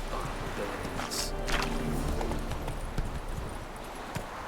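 Horse hooves clip-clop at a run in a video game as Roach gallops, a steady near rhythm of hoofbeats under game ambience with a voice calling out.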